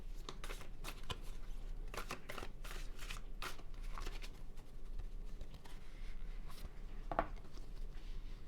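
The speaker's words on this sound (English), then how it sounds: "I'm gonna go ahead and throw more tarot" Tarot cards are shuffled by hand in quick, soft riffling bursts that repeat throughout, quiet and close with no talking.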